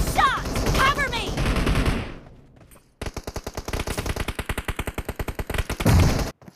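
Rapid automatic gunfire from the video game PUBG, a long steady burst of evenly spaced shots, loud and close, following a stretch of game noise and chatter-like sounds.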